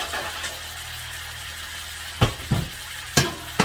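T-bone steaks dressed with Worcester sauce sizzle in a pan under a steady low hum, with a few sharp spitting crackles toward the end, close and moderately loud.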